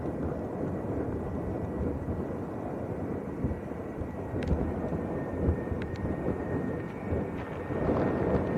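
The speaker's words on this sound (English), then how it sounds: "Right, this is Aer Lingus and A320 from Cork." An Aer Lingus Airbus A320 from Cork comes in on approach to Lanzarote Arrecife Airport as a steady, broad jet roar. It is loud and continuous throughout, with wind buffeting and no voices.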